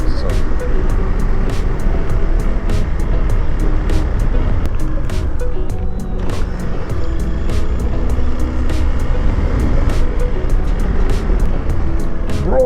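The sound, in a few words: motorcycle riding on a broken road at night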